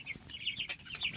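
Two-week-old chicks clucking and cheeping in their pen at night, a steady scatter of soft, fairly close calls with no one talking.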